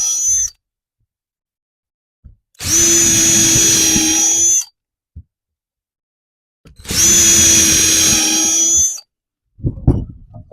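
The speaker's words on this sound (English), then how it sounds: "Now we're going to go ahead and drill this the rest of the way through" A power drill bores through a wooden target-stand board in two separate two-second bursts of high, steady whine, each followed by silence, then a short clatter at the end.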